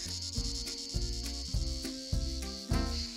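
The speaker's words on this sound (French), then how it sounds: "j'entends une cigale" Male cicada singing in a tree in the Hérault countryside, a high, sustained buzzing drone with steady pulses recurring about every half second, fairly close and clear without talk.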